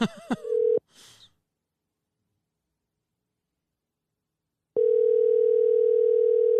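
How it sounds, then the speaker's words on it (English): Telephone call tones: a few short beeps at the start, a silent pause, then a loud, steady, unbroken tone. "Call him real quick before we get Kevin on tomorrow."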